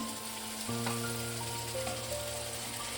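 Ginger-garlic paste fries in a hot pan with a steady, moderately loud sizzle and faint crackles. A sustained melodic backing runs underneath.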